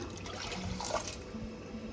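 Water is poured into a pot of dal and rice for khichdi. It makes a short, close trickling splash that runs steadily for a moment.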